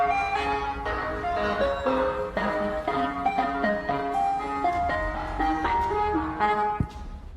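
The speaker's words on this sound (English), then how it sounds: "captures what looks like an ice cream truck making a U-turn on her road" An ice cream truck blares a tinny electronic Yankee Doodle at night, the chime melody steady and loud as the truck makes a U-turn along a residential road, with no voices.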